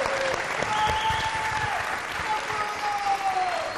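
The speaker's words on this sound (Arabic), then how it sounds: "تصفيقة تصفيقة كبيرة" Studio audience at a TV show claps, sustained dense applause filling the room, with a host's voice talking over it.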